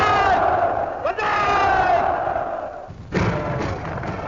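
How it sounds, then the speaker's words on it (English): A large Japanese crowd in a wartime newsreel roars banzai in unison, two loud massed shouts separated by a short break, with a muffled, band-limited old-film quality. "scenes of crowds jubilantly celebrating the victories were filmed across the country."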